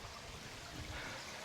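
Water trickling and streaming through a cave in America, a soft, steady wash of flowing water with no voices.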